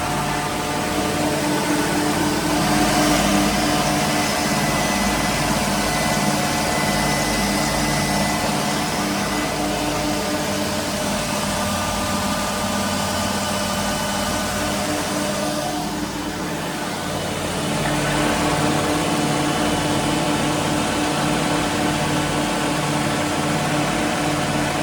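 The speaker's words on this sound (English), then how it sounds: "Gonna go do an engine room check while we're at speed." Inside a boat's engine room while underway at speed, engines drone in a loud, steady, dense roar with a constant hum and no talking.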